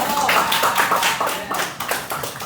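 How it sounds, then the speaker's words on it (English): A small group applauds with brisk, dense clapping that gradually thins out toward the end. "Give a round of applause to Mike."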